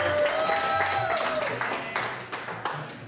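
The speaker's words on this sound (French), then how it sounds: "Applaudissements pour Laura Morgan." A cowboy-festival audience in Texas claps and cheers, a dense patter of applause with a whistle near the start, fading gradually under an announcer's voice.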